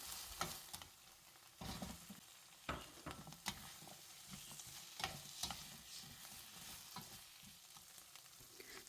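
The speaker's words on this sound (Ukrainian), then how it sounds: "Все перемішуємо і далі всипаємо туди моркву." Carrots sizzling in a frying pan while they are stirred, with intermittent scraping strokes and a soft continuous crackle throughout.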